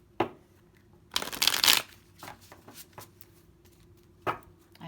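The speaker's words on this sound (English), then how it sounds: "Let's just give the cards a really good shuffle." Oracle cards shuffled by hand, a loud riffling burst in the middle framed by softer taps and slides of the deck, close and with no talking.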